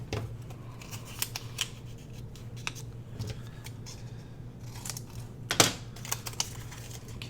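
Scissors cut fabric scraps: crisp, irregular snips and blade clicks sound close, some in quick pairs, over a low steady hum with no talking.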